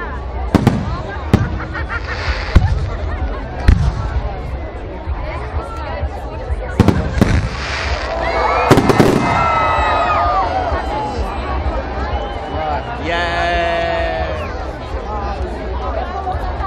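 Fireworks burst in a series of sharp booming cracks, some with whistling trails, over a chattering crowd talking nearby.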